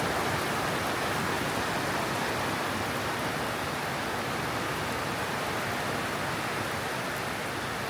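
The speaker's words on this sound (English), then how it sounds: "Oh, look at the rain." Steady, dense rain falls in sunny Melbourne, a constant broadband hiss with no breaks or voices throughout.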